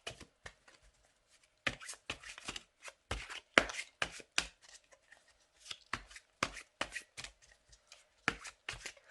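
Tarot cards shuffled by hand in irregular, crisp bursts and taps, close and fairly quiet, with short pauses between handfuls over several seconds.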